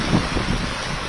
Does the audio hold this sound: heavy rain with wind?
yes